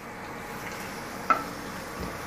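Whole spices crackle and sizzle faintly in hot mustard oil in a kadhai, a low steady frying hiss with one sharp clink of a utensil partway through.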